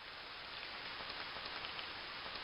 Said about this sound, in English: they settled to wait for the rain to go off